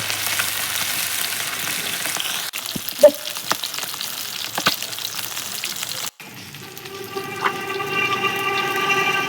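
Fish fry in hot oil in a pan over a village wood-fired stove, giving a continuous close sizzle with a few brief clicks and knocks and a short break partway through.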